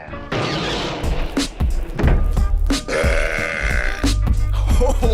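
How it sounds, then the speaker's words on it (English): A loud, drawn-out burp rumbles close to the microphone during a podcast, with bursts of laughter and chatter from several people around it. "That was a A+ burp."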